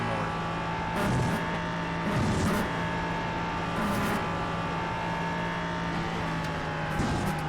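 Steady onboard drone of an LMP3 prototype race car's engine at Virginia International Raceway during a sports car series endurance finale, loud and continuous with a few brief surges and shifts in pitch.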